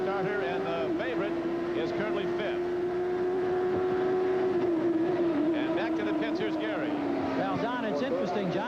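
Indycar race car engine heard from an onboard camera at the 1989 Meadowlands race, a steady loud drone that holds a high pitch and then drops slightly near the end, with commentary voices talking over it throughout.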